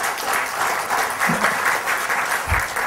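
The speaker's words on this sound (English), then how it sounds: "So please give a big round of applause to Dr. C." An audience at a hotel panel discussion in Bengaluru claps for a panel member taking a seat, a sustained, fairly distant round of applause with a couple of soft low thumps near the end.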